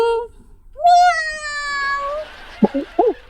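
A voice imitates a cat, giving a drawn-out, rising meow with a few short vocal sounds after it.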